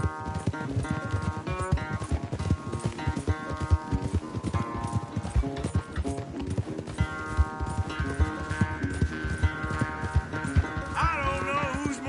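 A galloping horse races in a video game, rapid rhythmic hoofbeats pounding steadily throughout under a busy layer of game music.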